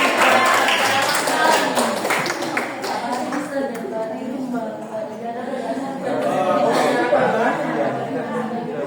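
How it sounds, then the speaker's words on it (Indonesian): Classroom clapping during a primary-school micro-teaching lesson, steady claps running under chatter and talking voices for the whole stretch. "Oke, tepuk tangan"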